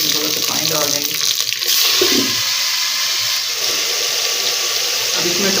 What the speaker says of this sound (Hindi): अब थोड़ा सा इसमें पानी शामिल कर देना है ताकि स्टीम के साथ जो प्याज है वो गल जाए।